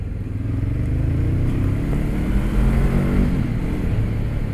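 A Honda CBR500R motorcycle on the road accelerates to overtake: a loud, steady engine drone with rising low rumble and wind noise throughout, heard up close from the rider's position.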